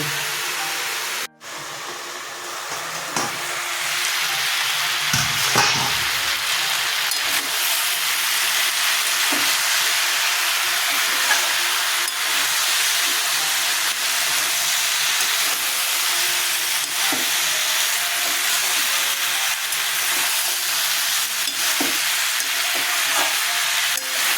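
A pan of mixed vegetable curry cooks on the stove with a continuous loud sizzle and hiss that runs steadily throughout, with occasional faint stirring clicks and no talking.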